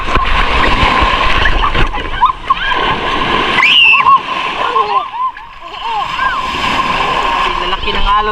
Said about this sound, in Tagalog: Lalaki ng alon dito.